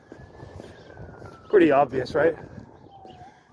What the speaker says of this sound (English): you can hear a siren going off.